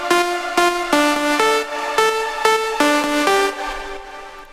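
Synth lead line from the drop of an electronic track, bright buzzy sawtooth-like notes struck in a rhythmic melodic pattern, loud and upfront with no voices.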